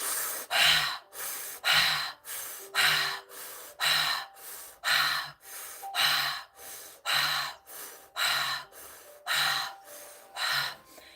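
A steady series of about a dozen deep, rapid breaths for a breathing exercise, each forceful inhale-exhale cycle roughly a second long, close and loud with no talking.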